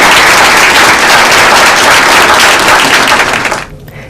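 Loud, dense applause from an office staff gathering fills the room steadily, then cuts off abruptly near the end.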